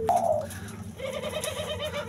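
Doves (burung puter) kept in a breeding cage, giving a close, clear coo at the start followed by softer cooing over a steady background.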